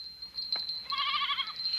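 Goats in a mountain herd bleat in a short cluster of wavering cries in the second half, near and fairly clear over a faint background tone.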